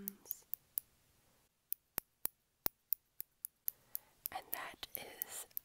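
A small pair of detail scissors snips in a series of sharp, close, crisp cuts, spaced at first and then quicker, with soft whispering early on and a rustling fabric-like texture toward the end.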